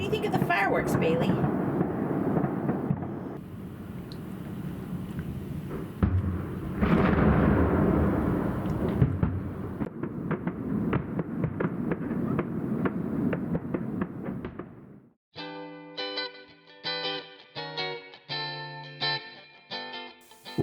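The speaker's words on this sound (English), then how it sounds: "What do you think of the fireworks, Bailey?" Fourth of July fireworks burst repeatedly in loud, booming explosions with crackling tails for about fifteen seconds, then the blasts give way to music.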